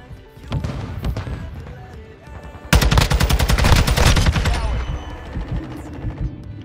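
Rapid automatic gunfire from a Call of Duty match in ranked play, a dense burst of loud, close shots lasting a few seconds after quieter game sounds, with a voice talking faintly underneath.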